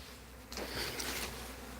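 Honeybees at a backyard hive buzz in a faint, steady drone that swells briefly as bees pass close to the microphone, with no voices.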